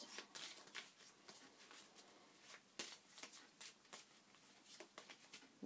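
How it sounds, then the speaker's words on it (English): A deck of cards gets a thorough riffle shuffle, with repeated crisp flutters and snaps arriving in quick bursts. It sounds close and fairly quiet, with no talking. "I'm just going to give them a good shuffle."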